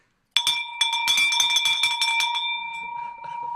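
A handheld bell rung at a wholesale sale clangs suddenly and rapidly for about two seconds, loud and close, then its ringing tone fades away.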